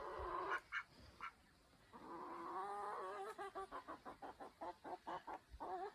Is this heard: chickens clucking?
yes